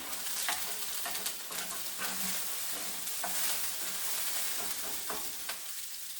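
Egg whites broken up in a sizzling wok while stir-frying scallop fried rice, steady frying hiss punctuated by irregular scraping and tapping strokes of the spatula.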